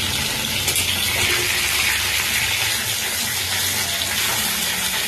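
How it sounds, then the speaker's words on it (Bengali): Rohu fish fries in hot oil as a loud, continuous, even hiss and crackle throughout, with no voices. "মাছটা সুন্দর হয়ে ভাজা হচ্ছে"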